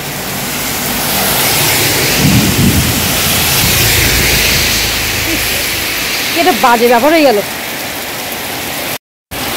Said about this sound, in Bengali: এদিকে বৃষ্টি তো মনে হয় থামবে না